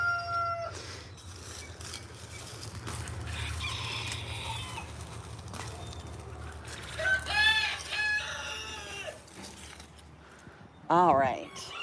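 A pet rooster crows in a backyard garden with wet soil, a few short calls around the middle and a louder, closer crow near the end over steady low background noise.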